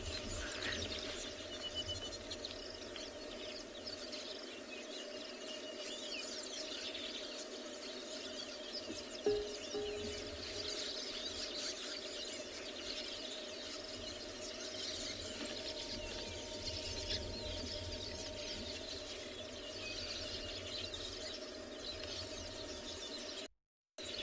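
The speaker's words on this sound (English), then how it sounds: "So lovely just sitting here listening to all the birds calling as well. The weavers are very, very busy in their nests." Weaver birds calling around their nests at sunset on a safari, a faint continuous chorus of chirps and trills blended with insect buzz over steady background hum.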